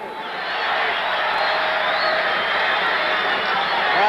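A boxing crowd at a heavyweight fight roars in a steady, loud, sustained wash of cheering and shouting as the final seconds of a round tick away, with no pauses.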